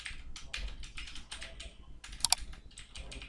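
Someone types Python code, a print statement, on a computer keyboard. Quick, close key clicks come in short uneven runs with a brief pause midway, then a sharper pair of keystrokes.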